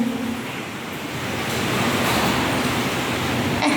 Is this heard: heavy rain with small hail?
yes